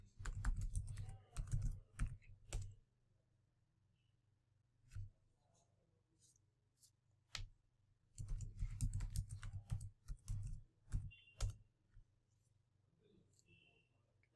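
A password is typed on a computer keyboard in quick bursts of close, light keystrokes, broken by silent pauses and a few lone clicks.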